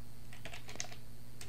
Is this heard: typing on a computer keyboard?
yes